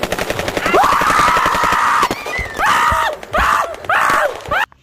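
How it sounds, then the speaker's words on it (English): Rapid bursts of gunfire rattle loudly and close in a game scene, each rattling run broken up by short gaps, with brief tonal whines overlapping the shots. "Just stop shooting, please."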